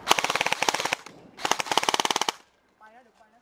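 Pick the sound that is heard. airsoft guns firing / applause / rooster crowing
airsoft guns firing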